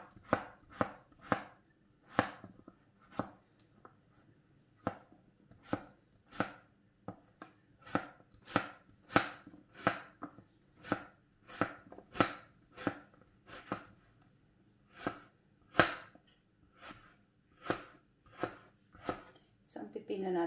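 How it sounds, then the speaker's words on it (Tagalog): A knife slices through cucumber against a cutting board in a long series of crisp, evenly spaced chops, close and clear, with pauses between runs of cuts. "ang pipino naman natin, ganun din hiwain natin sa gusto natin kung kano siya kalaki."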